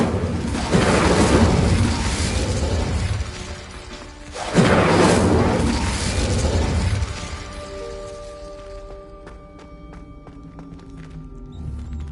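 A fire spell cast in Hogwarts Legacy erupts in two loud whooshing bursts of crackling flame, the second swelling about halfway through, before fading into a quieter magical hum and ringing tones.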